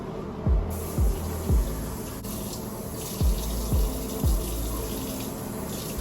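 Water runs steadily from a sink tap during a face rinse, with a series of soft low splashes as water is scooped up in regular pairs and threes.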